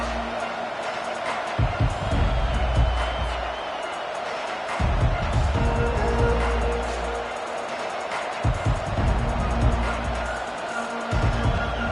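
A large football crowd at an LSU stadium game roars steadily, swelling in waves of loud cheering and noise across the whole stretch, with no clear break.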